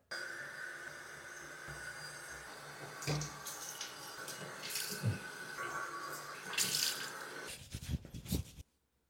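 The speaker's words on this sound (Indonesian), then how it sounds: "sekarang saya saatnya sikat gigi dan cuci muka" A bathroom tap runs at a sink during tooth brushing and face washing, a steady soft stream broken by splashes and handling sounds, then cut off abruptly near the end.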